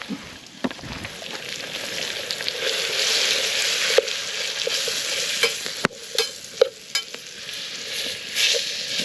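Onions and spices frying in oil over a campfire, heard as a steady close sizzle with stirring scrapes and occasional sharp clicks from the pan, no talk.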